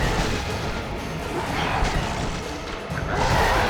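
An explosion from the Spear of Destiny in the God of War II video game comes as a loud, churning crash with clattering debris, sustained and close throughout without pauses.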